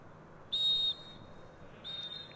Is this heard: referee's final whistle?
yes